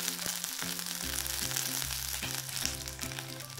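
Onions, garlic and curry leaves fry in a pan with a continuous bright sizzle and faint stirring, steady throughout under background music.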